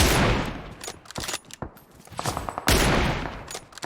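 Sniper rifle gunfire in the mobile battle royale game PUBG Mobile, sharp loud cracks spread through the stretch with one heavy blast near the end, no voices over it.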